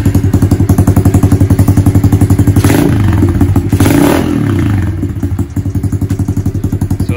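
A Honda CRF110 dirt bike, fitted with a bigger intake system and a 25 pilot jet, idles close by in a steady, even chugging pulse that swells slightly midway before settling back to a regular beat.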